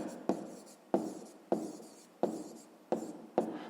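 Six quick strokes of a pen on paper tap and scratch at a steady rhythm, faint and close with quiet between each mark.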